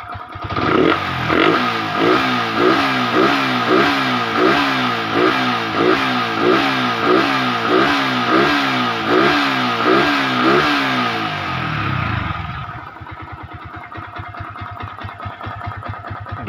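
A close Yamaha Vixion motorcycle engine, rebuilt after overheating problems, revs in a fast, rhythmic series of throttle blips, then settles to a steady, lower idle.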